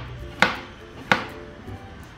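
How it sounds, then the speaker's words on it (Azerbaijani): Mushrooms being finely chopped with a knife on a board, three sharp isolated knife strikes spaced about 0.7 seconds apart over a quiet background, close and distinct. "Göbələkləri qabığını soyub yuduqdan sonra xırda-xırda doğrayırıq."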